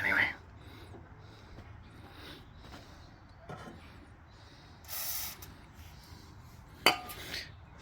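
Aerosol spray on the ABS unit of an EB XR8 car, short hissing bursts among quiet clinks of tools and metal parts, faint and close, with a sharper metallic clink near the end.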